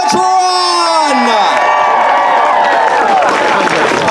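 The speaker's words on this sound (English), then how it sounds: "Everyone, give some applause to our co-producer, Thundertron." Loud crowd at an outdoor Pride celebration and parade in Monterey Peninsula, California, cheering, whooping and clapping together in a dense, continuous roar with high shouts rising over it.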